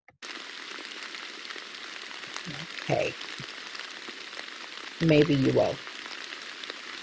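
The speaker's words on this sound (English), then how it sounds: "you'll hear a little bit of the rain in the background" Steady, soft rain hisses in the background throughout, with brief quiet speech breaking in twice.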